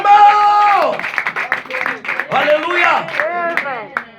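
A church congregation claps over loud shouting and singing voices that dominate, with a rapid patter of hand claps running beneath them.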